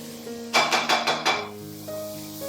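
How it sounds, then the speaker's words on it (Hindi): Onion and tomato with salt cooking in a pan for a red lentil curry, giving a short run of about five loud, rhythmic bursts of scraping and sizzling as the pan is stirred, then a quieter tonal hum. "उसी पैन में प्याज को अच्छे तरीके से भून लीजिए। इसमें टमाटर और थोड़ा सा नमक डालकर इसे पकाइए।"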